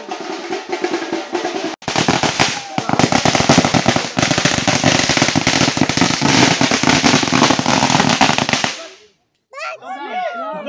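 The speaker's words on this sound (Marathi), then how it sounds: "बॉम्ब लावणार? तुला बॉम्ब कशासाठी दिले आहेत?" A long string of firecrackers bursts into dense, rapid crackling and popping for about seven seconds during a traditional Ganesh immersion procession in the Konkan. The bursts are very loud and close, with voices shouting before and after.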